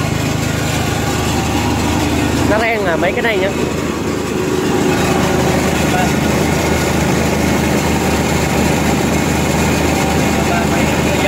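A Kubota engine-driven pesticide sprayer pump runs steadily throughout, a constant loud close drone with someone talking over it.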